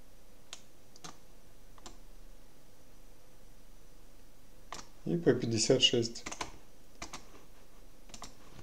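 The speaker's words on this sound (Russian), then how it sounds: "Теперь на клавиатуре нажимается клавиша, что станет L1." Computer keyboard keys clicked one at a time while setting up a PCSX2 emulator, sparse sharp taps spread across the clip with a burst of speech in the middle.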